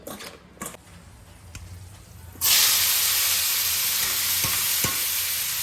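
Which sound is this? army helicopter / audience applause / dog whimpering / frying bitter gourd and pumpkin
frying bitter gourd and pumpkin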